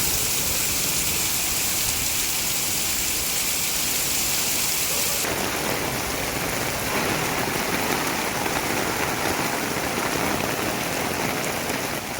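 Heavy rain mixed with hail pouring down outdoors, a dense loud continuous hiss and patter that stays steady throughout, no voices.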